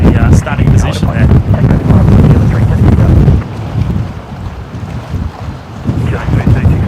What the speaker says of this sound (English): the wind actually keeps turning the camera from the starting position there.